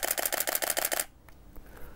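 A camera shutter firing in high-speed burst drive mode gives a rapid run of about seven crisp, even clicks within a second, then falls quiet apart from faint handling noise.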